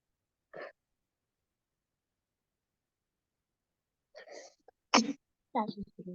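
Someone sneezes once, sharp and near, in a quiet room during a children's sensory maths lesson, with a few brief breaths and vocal sounds before it and short speech just after.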